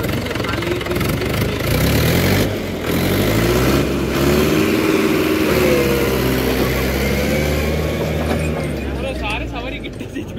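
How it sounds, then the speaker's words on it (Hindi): A 40 HP Mahindra tractor engine chugs steadily and loudly nearby, with rising and falling rev tones, while people talk over it. "ये ट्रैक्टर होगा 40 HP, तो 40 HP के अकॉर्डिंग काफी बढ़िया चल रहा है ये"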